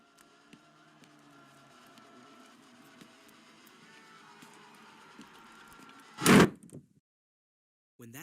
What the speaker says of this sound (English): When that door slammed shut